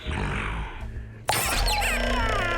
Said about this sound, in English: Giant smashes in the window with his paw, sending fragments of glass flying into the interior